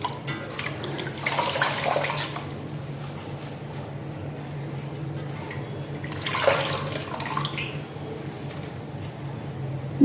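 Mint leaves are rinsed in a kitchen bowl of water and drained through a strainer, giving a steady watery wash with two brief louder splashing surges, close up under a low background hum.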